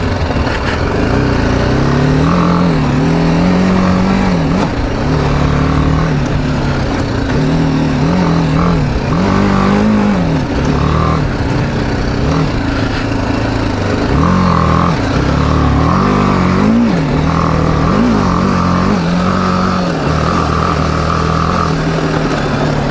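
BMW G310GS single-cylinder motorcycle ridden around a small flat track, its engine loud and close throughout, rising and falling in pitch as the throttle opens and closes between repeated revving surges.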